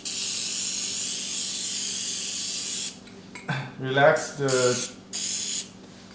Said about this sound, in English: So we spray a little water to relax